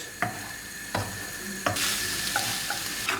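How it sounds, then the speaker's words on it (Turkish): Boiled manti dumplings being lightly fried and stirred in a pan, a steady sizzle throughout with a few sharp scrapes of the spoon against the pan at regular intervals. "Evet mantımızı hafifçe kavurup ısıttıktan sonra bunu kenara alıyorum"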